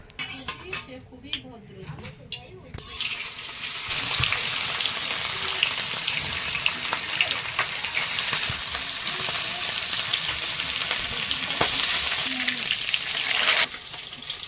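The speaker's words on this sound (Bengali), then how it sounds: "তেল দিয়ে দেবো দিয়ে মাছগুলো ভেজে নেব" Katla fish caught from a pond frying in oil in a kadai over a village clay stove, a steady loud sizzle that swells after a few seconds and holds, with faint talk early on.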